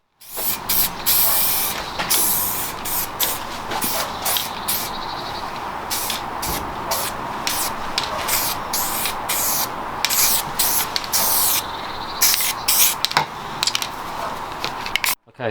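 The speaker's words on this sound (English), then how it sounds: "then we're gonna start applying the etch primer" Etch primer sprayed from a spray gun onto a siderail cover for an MK3 VW Caddy in a paint workshop, in close, loud hissing bursts that stop and start again and again, with no talk.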